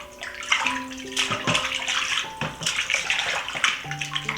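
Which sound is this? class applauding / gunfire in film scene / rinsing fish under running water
rinsing fish under running water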